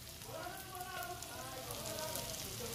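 Chopped onion sizzles in a frying pan with garlic for a carbonara, a soft, steady crackling hiss that holds evenly throughout, with faint voice-like tones drifting underneath.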